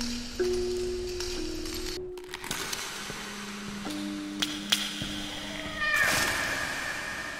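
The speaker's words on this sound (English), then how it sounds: "Oh, it's the cat. Is that the cat?" A cat meows in the horror video game Layers of Fear, a few tonal cries amid eerie ambient tones, metallic clinks and sharp knocks, moderately faint.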